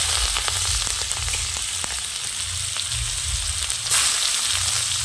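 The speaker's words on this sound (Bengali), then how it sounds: "এখন গোটা গরম মশলা ফোড়ন দিয়ে দেবো আর পেঁয়াজ কুচি দিয়ে দেবো।" Whole garam masala and chopped onion frying in hot oil in a kadai over a strong flame, a steady loud sizzle with scattered crackles and pops throughout, heard alone without talk.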